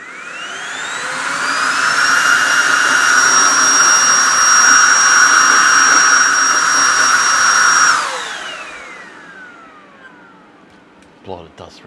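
Mellif 20V cordless electric air duster spins up to a loud, steady high-pitched whoosh that holds for several seconds, then winds down and fades away.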